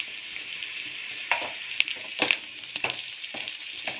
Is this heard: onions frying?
yes